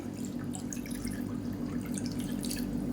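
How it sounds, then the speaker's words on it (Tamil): Hot water poured from a measuring cup into a pan while making soup, a close, steady splashing and trickling stream lasting a few seconds, with no one talking. "மெஷரிங் கப்பில் ரெண்டு கப் அளவுக்கு தண்ணி சேர்த்துக்கலாம்"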